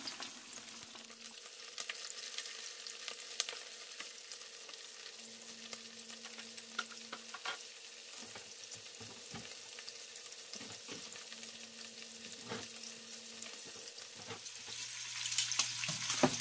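Shrimp fry in hot oil with a faint, steady crackle and sizzle, joined by scattered clicks and light clatter of utensils. The sound is quiet and continuous, with a brief louder rustle near the end and no talking.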